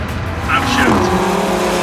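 Audi RS3 (2017) turbo engine with a dual-clutch gearbox giving a quick exhaust brap on the upshift, a short sharp burst from a close car over road noise, with talk over it.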